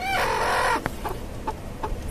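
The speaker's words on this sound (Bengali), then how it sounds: "এখানে আমি একটা দেশি মুরগিকে কুচে বসিয়েছি টাইগার মুরগির ডিম দিয়ে" A desi hen sitting on tiger chicken eggs in a cage gives a drawn-out, close, loud vocal call, then a few short, softer clucks spaced out after it.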